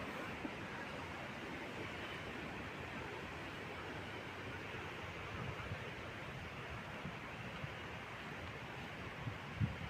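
Steady rushing water released from a sluice gate for irrigation beside a river in Theni, a constant broadband roar that stays close and even throughout with no talk.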